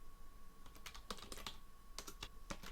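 Quiet computer-keyboard typing comes in irregular bursts of soft clicks against a low steady hum, as if entering code at a desk.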